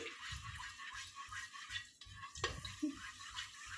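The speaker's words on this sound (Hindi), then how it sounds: "अब मैं उसमें around 1 tablespoon ginger garlic paste डाल दूंगी।" Ginger garlic paste fries in hot oil and ghee for chicken biryani, giving a low, quiet sizzle. A spoon stirs through it with soft, rhythmic scraping, and a light clink of metal on the pot is heard.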